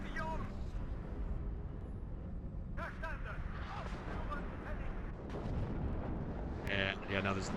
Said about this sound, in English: And they brought that artillery up really far.